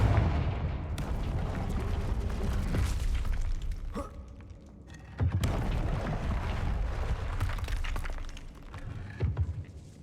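A Confringo fire spell blasting in Hogwarts Legacy: a loud, dense burst of crackling, shattering impact noise that roars steadily, briefly drops away, then surges again with sharp hits near the end.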